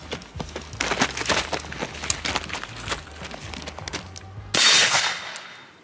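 Rapid gunfire crackles in a shooting video game, a dense run of sharp shots over low thumping game sound, ending in a loud burst of noise.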